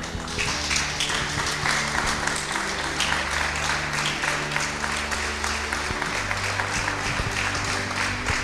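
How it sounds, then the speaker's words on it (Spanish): Church congregation applauding during a sermon, a dense, continuous roar of clapping hands with music or voices faintly underneath, sustained and fairly loud throughout. "Un aplauso al Señor"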